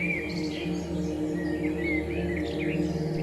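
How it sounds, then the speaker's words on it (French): Birds sing in steady, high chirps and short trills, layered over a continuous, soft, droning musical background. "Le chant des oiseaux"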